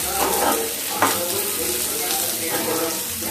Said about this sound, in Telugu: ఒక 1 మినిట్ పాటు క్యారెట్ని ఆయిల్లో ఉడకనిద్దామండి.